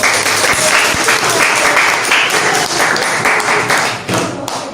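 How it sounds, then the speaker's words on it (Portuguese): Applause fills a room during a mock jury session in a class, dense continuous clapping from a group, close and loud, tapering slightly near the end with faint voices beneath. "Gente, vamos aplaudir isso tudo?"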